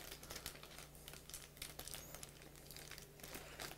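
A plastic bag of cake mix is cut open in a kitchen, giving faint, close crinkling and rustling of plastic with small snips throughout, without talk.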